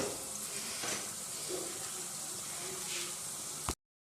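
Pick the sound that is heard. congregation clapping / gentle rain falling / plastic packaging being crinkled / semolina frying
semolina frying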